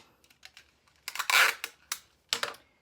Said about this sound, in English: I'm just going to use tape to attach it